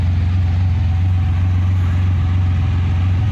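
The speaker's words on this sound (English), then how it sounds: "it actually has a deep sound even at idle" A motorcycle fitted with an Akrapovič exhaust idles with a deep, steady low rumble that holds an even, unbroken drone throughout, close by and alone with no voices.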